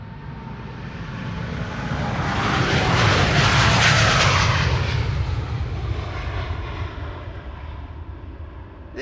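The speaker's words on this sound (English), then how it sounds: "This is the KLM 100 years, of course, the 787-10 Dreamliner." A KLM Boeing 787-10 Dreamliner jet passing at Amsterdam Schiphol Airport, a loud engine roar that builds, peaks near the middle and slowly fades as it moves away.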